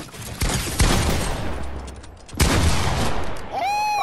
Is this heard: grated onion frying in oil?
no